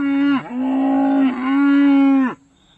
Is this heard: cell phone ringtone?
no